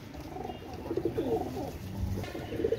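Pigeons cooing, KTM teddy males at a Pakistani pigeon seller's loft, soft low rolling coos repeating steadily close by with a faint steady hiss behind them.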